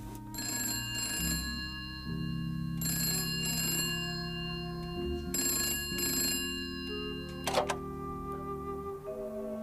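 A telephone rings in repeated bell-like bursts, evenly spaced, over a low sustained tone, with a sharp click near the end.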